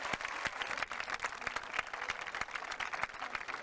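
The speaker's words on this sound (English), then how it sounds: "Let's give them a nice round of applause." A crowd at a 1988 high school graduation ceremony gives a steady round of applause, many hands clapping densely and continuously at moderate distance, with no talk over it.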